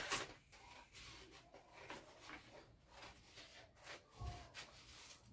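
Scissors cutting through paper in a classroom craft demonstration, giving soft rubbing, snipping strokes that repeat irregularly at close range, with faint background noise and no talk.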